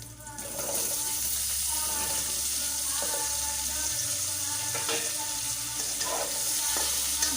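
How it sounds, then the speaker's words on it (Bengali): Eggplant and potato pieces frying in hot oil with browned panch phoron, a loud, steady close sizzle with occasional faint scraping clicks throughout. "পাঁচফোড়নটা একটু বাদামি কালার হয়ে আসলেই আমি তাতে বেগুন আর আলুগুলো রেখেছিলাম কেটে ওগুলো সবটা দিয়ে দিলাম"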